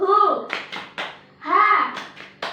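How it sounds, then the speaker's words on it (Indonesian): A primary school class does a rhythmic spirit clap in unison, sharp clustered hand claps in short bursts alternating with children's chanted voices, loud and close in a classroom. "sekali lagi kita tepuk semangat terlebih dahulu ya teman-teman"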